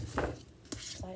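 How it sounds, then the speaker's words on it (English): Knife slicing through an avocado on a cutting board in a home kitchen for guacamole: a short scraping cut early on, then a sharper tap against the board, with faint kitchen clatter around it. "Slice my avocado."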